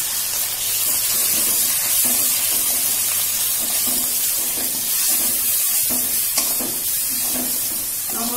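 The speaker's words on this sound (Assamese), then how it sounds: "এতিয়া মই এইখিনি ভালকৈ ভাজিম" Garlic and ginger fry in a pan with turmeric, chilli powder and meat masala for a potato and papad curry, producing a loud, continuous, close hiss with soft stirring taps throughout.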